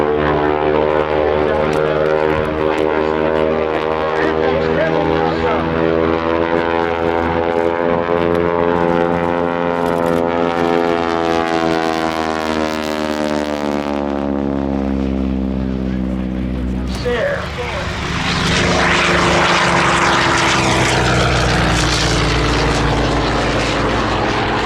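A WWII FG-1D Corsair propeller plane roars past at an air show weekend in Reading, PA, its engine drone loud and shifting in pitch as it approaches and recedes, with crowd and commentary mixed in.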